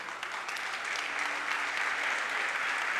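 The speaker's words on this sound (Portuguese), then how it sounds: "pode economizar o aplauso" A church congregation applauds steadily, a dense, even wash of many hands clapping at once that holds at a constant level throughout without a break.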